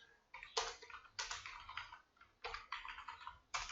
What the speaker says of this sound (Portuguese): Meu teclado está na hora de trocar